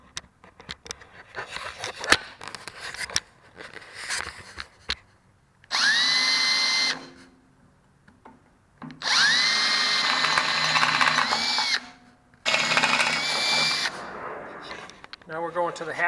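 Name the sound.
power drill with new bits drilling holes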